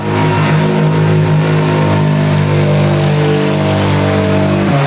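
A loud, close race car engine revs hard through a big exhaust at a racetrack, holding a deep, rumbling exhaust note for several seconds before dropping off sharply at the end.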